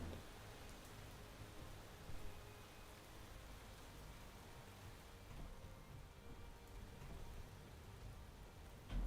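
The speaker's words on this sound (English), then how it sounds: "So it's raining in the hangar." Rain falling inside a hangar in Space Engineers, a soft, steady hiss of drops with no break, faint and even throughout, with no voices.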